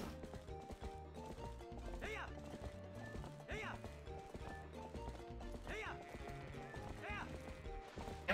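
A horse gallops in Zelda: Twilight Princess HD with rhythmic game hoofbeats, repeated whinnies and mechanical clatter under steady game music, while a voice talks over it.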